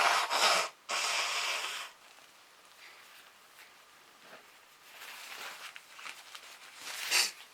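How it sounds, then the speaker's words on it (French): A person blowing their nose into a tissue, two loud close bursts of air at the start, then softer rustling and sniffing, ending in one more short forceful blow. "je vais me moucher"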